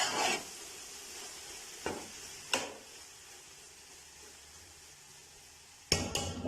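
Carrot halwa with khoya stirred in a pan off the flame, a few brief scraping and clattering strokes of the spoon against the pan over a faint background hiss, with quiet gaps between them.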